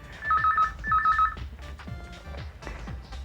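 A telephone rings in two repeated electronic trill bursts, fairly close, followed by some background clatter and movement.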